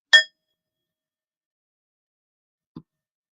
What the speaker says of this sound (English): I'm just adding to my own ritual, ringing the bell after each candle